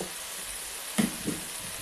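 Spiced cauliflower roast sizzling in a pan as it is stir-fried, a low steady hiss broken by two quick scraping clatters from the spatula.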